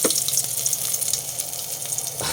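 Ginger sizzling steadily in hot oil in a saucepan, a loud continuous hiss and crackle close by, with no talking.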